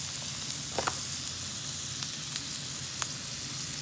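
Cauliflower rice sizzles steadily on a hot grill pan, a continuous close broadband hiss with a few brief crackles and pops scattered throughout; no one speaks.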